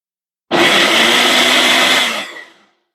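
A Ninja single-serve blender purees pineapple and lime into a smoothie, starting abruptly with a loud, steady, close motor whir and blade roar for about two seconds before winding down and fading, with no talking.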